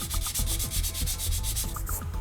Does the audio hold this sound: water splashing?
no